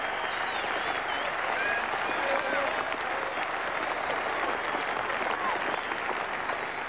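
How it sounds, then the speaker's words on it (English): A packed Saturday afternoon crowd at a 1981 Ashes Test cricket match applauds Ian Botham off the field, a broad, distant, sustained roar of clapping with faint whistles and cheers, with a commentator talking over it. "applaud him all the way in, a reception he so thoroughly deserves"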